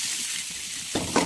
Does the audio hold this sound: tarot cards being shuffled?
no